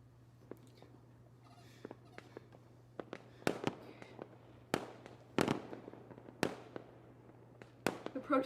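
Fireworks set off by protesters crack and pop at irregular intervals, several sharp bangs standing out loudly over a quiet, steady hum.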